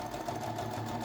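A sewing machine runs a steady stitch along the edge of a fabric placemat, a continuous, close motor whir with a faint rhythmic needle pulse.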